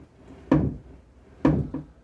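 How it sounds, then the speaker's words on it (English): A lower vanity drawer shuts twice, each push ending in a sharp wooden knock as it strikes the sink drain pipe behind it; the second close gives a small rebound tap, all close and fairly loud in a quiet room. "when I close this lower drawer,"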